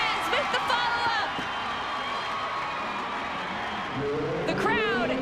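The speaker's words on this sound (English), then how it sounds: "The crowd is loving it in San Salvador." Stadium crowd at a women's football qualifier between El Salvador and Belize in San Salvador, a steady roar of cheering with whistles rising near the end beneath continuous commentary.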